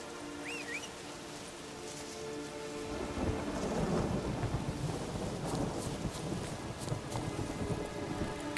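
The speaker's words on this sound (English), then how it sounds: "A storm, damn it." A thunderstorm in The Witcher 3 video game: steady rain patters throughout while thunder swells into a deep, rolling rumble from about three seconds on, moderately faint overall.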